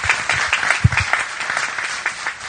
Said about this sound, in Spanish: Un aplauso para Noemí Brenta.